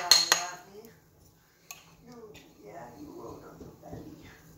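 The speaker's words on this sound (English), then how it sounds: "Tap off the bowl." A utensil taps sharply a couple of times against a bowl of finely chopped spruce tips, two bright clinks up close at the start, followed by softer stirring and a person talking quietly.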